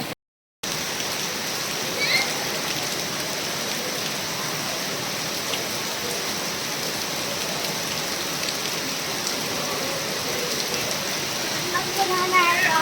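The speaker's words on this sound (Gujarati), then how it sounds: "તમે જોઈ નથી શકો એટલો તો વરસાદ આવે છે" Heavy monsoon rain pours down steadily, a dense, loud, even roar of drops on surfaces with no pause throughout.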